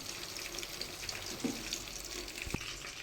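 Running water flows from a tap into a pot for boiling rice, a soft steady splashing with a couple of light clinks, fairly quiet.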